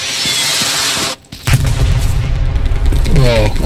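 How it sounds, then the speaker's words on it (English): Artillery strike explosions in the video game Hell Let Loose, a loud sustained roar of blasts and booms with a brief dropout, then a heavy impact and continued rumbling, with a voice speaking over it. "Oh, artillery strike."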